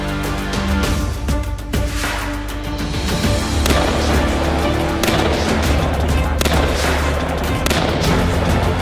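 Paintball guns fire in a pine forest at Malino in rapid, scattered pops and bursts that overlap continuously, loud and near, with no clear talking.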